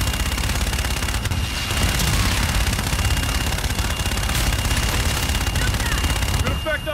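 Sustained rapid weapon fire in Call of Duty Infinite Warfare, a dense continuous rattle of shots with booms underneath and radio-style voices talking over it.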